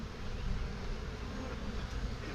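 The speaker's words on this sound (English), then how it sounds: "Get this bee out of here." Honeybees buzz in a steady, close drone at an open hive in a farm apiary, a continuous hum with no voices over it.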